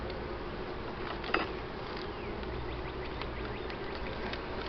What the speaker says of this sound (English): That's 2 frames of bees.